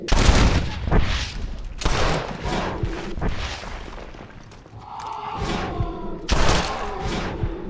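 A volley of gunfire erupts in a Western-style zombie game setting, with several loud, booming shots clustered in bursts and a faint voice briefly heard between them.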